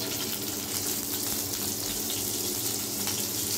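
Soybean oil pours into a cooking pan with a dense, continuous hiss and a gushing wash of sound that stays even and close throughout.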